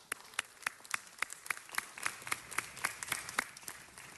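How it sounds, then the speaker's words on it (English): Applause from a crowd at a city council meeting, a quiet, steady patter of clapping with sharp individual claps standing out, lasting about four seconds with no talk over it. "Let's give them a big round of applause."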